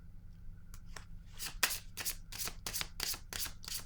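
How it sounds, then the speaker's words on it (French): Tarot cards are handled, shuffled and laid down in a rapid series of close, crisp papery flicks and slaps, with no talking. "Je vais déposer une autre carte."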